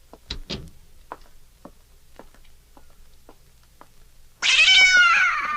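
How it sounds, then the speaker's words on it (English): A cat meows loudly and close in a 1946 radio suspense drama, a sustained wavering cry that bursts in near the end after a few soft taps and faint footstep-like knocks. "You like that cat, Miss Diane."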